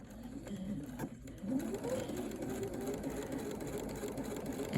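A sewing machine stitches turned-edge quilt appliqué around a tight curve at a reduced stitch length, giving a steady close mechanical whirr that rises a little partway through.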